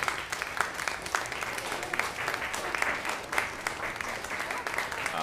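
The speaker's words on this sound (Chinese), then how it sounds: "我请他们站起来，我们鼓掌来欢迎他们。" A church congregation at a Sunday communion service applauding to welcome guests, dense sustained clapping from many hands filling the room throughout, with some voices mixed in.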